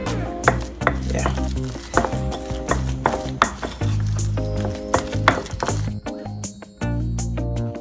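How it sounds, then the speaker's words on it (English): Keto almond buns frying in beef tallow or lard: steady close sizzling with repeated clatters and taps of a utensil against the pan, over a faint background of music. "So I'm using my beef tallow or lard to fry this"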